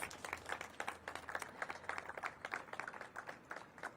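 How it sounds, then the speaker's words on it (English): A small crowd at a Washington, DC event on childcare investment claps, a scattered burst of applause that carries on evenly throughout, moderately distant. "Principal Hunt and Indalee Clark from Centronia a big round of applause"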